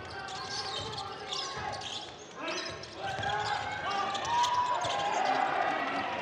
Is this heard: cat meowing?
no